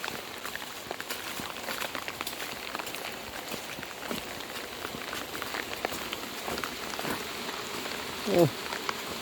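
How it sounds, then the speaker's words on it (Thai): Steady rain patters and hisses on a surface at a garden house beside a pond, with scattered drips and a brief louder splash near the end; faint voices murmur in the background. "ฝนตก"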